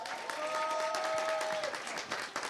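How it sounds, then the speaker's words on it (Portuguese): An audience at a talk on Black fiction applauds in a steady, dense wash of clapping, with a brief sung or called note rising over it. "Merece os nossos aplausos."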